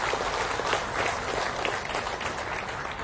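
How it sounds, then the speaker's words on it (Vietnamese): A temple audience of Buddhist followers breaks into loud, sustained applause, a dense wash of clapping hands that holds steady throughout. "Xin quý vị trên một tràng vỗ tay thật lớn."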